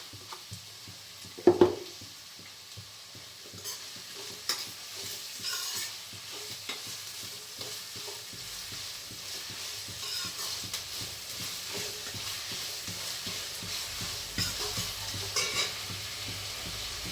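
Chicken frying in a pan after salt is added, a sustained close sizzle with frequent stirring scrapes and clicks throughout, a louder knock near the start.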